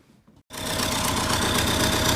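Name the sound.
MTZ tractor engine starting and running with repaired exhaust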